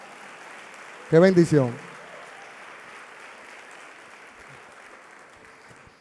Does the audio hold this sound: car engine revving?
no